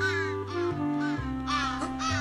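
A bird in the video game Santa Claus In Trouble gives loud, repeated harsh caws in a rising and falling series over a steady low musical drone, with no voices.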